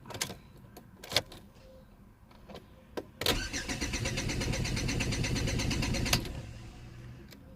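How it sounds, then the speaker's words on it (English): A car engine with a faulty immobiliser cranks and catches, runs for about three seconds, then abruptly cuts out, preceded by a few clicks and clunks. "and when you start the car"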